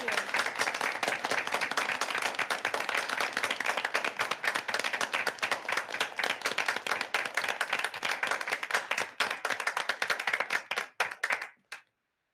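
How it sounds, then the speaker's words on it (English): Applause at a board general meeting, a steady, loud patter of many hands clapping for about eleven seconds before it thins out and stops. "Big round of applause"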